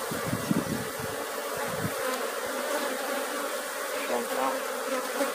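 Apis honeybees buzz densely around a hive being fed, a constant close hum with a few louder passes of individual bees near the start.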